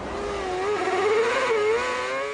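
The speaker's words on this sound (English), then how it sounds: "The sound of 22 cars revving up in the sunshine" High-pitched Formula One racing engines of 22 cars rev loudly together at the 2008 Melbourne season opener, their whining tones rising and falling in a steady, continuous roar.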